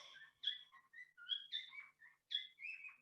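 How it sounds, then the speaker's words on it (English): An uncaged pet bird indoors gives a series of clear, close chirps and short whistled notes in quick bursts, with brief pauses between them and no other sound. "If you hear any sounds, that's my bird, because I have an uncaged bird in my room."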